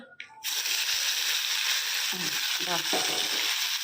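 Spice paste hits hot oil in an iron wok, bursting into a loud, dense sizzle after a short quiet start, with a few stirring knocks and clinks through the steady frying.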